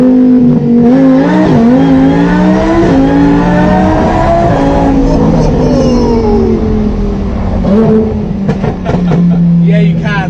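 A Lamborghini fitted with a supercharger accelerates with a rising engine whine and revving harmonics, loud and close from inside the car, while people talk over it throughout.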